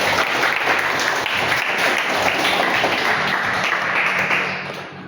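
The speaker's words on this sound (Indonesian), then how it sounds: "Tepuk tangan dong untuk temannya." Classroom applause for a student after a presentation, dense steady clapping from many hands filling the room, fading slightly at the end.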